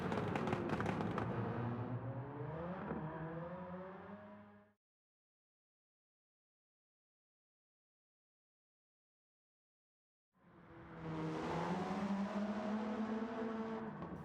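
Mitsubishi FTO race car engine in Gran Turismo 7, a front-wheel-drive tuned car, revving loudly with shifting pitch for several seconds, cutting to silence, then roaring back up near and loud.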